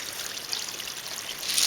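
Fish water from an aquaponics system pours onto growing plants, a steady soft trickle and splash that swells slightly toward the end, heard alone without talk.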